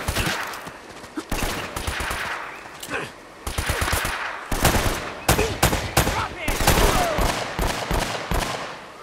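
Gunfire in the video game Uncharted: Drake's Fortune: repeated bursts of automatic fire and single shots crackle loudly throughout, with brief pauses between volleys and occasional voices underneath.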